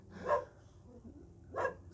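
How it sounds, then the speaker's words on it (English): Dogs bark outdoors while someone works on a car: two separate barks about a second apart, moderately distant and fairly quiet, with a faint low background murmur between them. "There's dogs just watching me, staring at me like... Okay, now they're barking as well."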